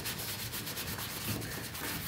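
Steady abrasive rubbing of sandpaper over carbon-fibre side panels on an Audi RS4 sedan during refinishing, a continuous close scratching hiss with a faint repeating back-and-forth pulse and no talk.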